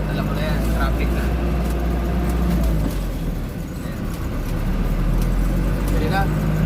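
Dense road traffic in Naga City heard from inside a moving vehicle, with a steady loud engine and road roar, passing vehicles and a busy street wash.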